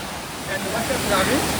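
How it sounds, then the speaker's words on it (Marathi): Steady broadband rush of a waterfall beside a bridge fills the whole clip, loud and constant, with faint voices mixed faintly into the roar. "त्याच्या बाजूला इथे हा धबधबा आहे"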